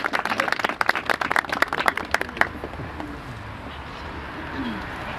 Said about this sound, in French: je crois qu'il faut qu'on l'applaudisse